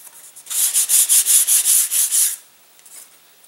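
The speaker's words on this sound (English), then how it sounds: "you can sand off the burrs top and bottom" Sandpaper rubbed back and forth to take burrs off a part of a catapult glider, about eight quick close strokes in a steady rhythm, then a few faint scrapes afterward.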